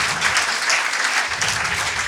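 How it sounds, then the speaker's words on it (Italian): A steady burst of applause from a crowd, dense clapping throughout with no voices on top. "io farei un grandissimo applauso a John Lennon"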